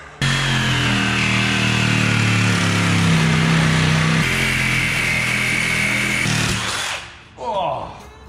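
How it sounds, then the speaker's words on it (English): A Sawzall reciprocating saw cuts during a giant tractor tire change, giving a loud, harsh, steady buzzing drone for about seven seconds before it cuts off, followed by a brief clatter. "Where's my Sawzall?"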